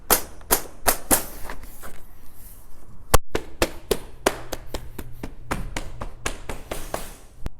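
A window balance tube on a Marvin double-hung window is knocked into place with a hammer or fist, a series of sharp, close taps and thuds coming in irregular bursts and quickening toward the end.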